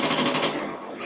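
Rapid submachine gun fire blasts from the video game Call of Duty Zombies, a dense, loud burst of shots running for about a second with no pauses.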